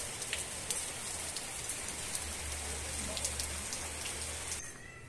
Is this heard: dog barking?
no